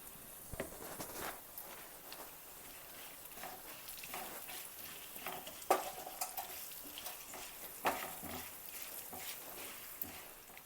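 Lemon rice being stirred and mixed in a pan, soft scraping and faint sizzling with occasional louder utensil knocks, quiet and steady throughout.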